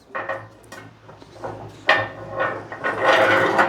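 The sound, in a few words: bearings slotted into antique mangle frame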